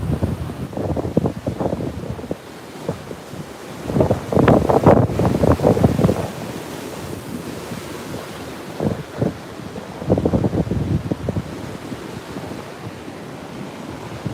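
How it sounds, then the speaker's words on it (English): Heavy ocean surf during a coastal surf advisory with 6-8 ft waves, heard as repeated loud crashing surges with steady wind noise buffeting the microphone between breaks. "it'd be hard to catch these waves, honestly. There's a lot of power out there"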